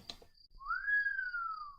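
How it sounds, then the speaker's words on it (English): A single clear rising-then-falling whistle from a person, held for about a second, quiet and alone after a brief soft rustle. "I whistled."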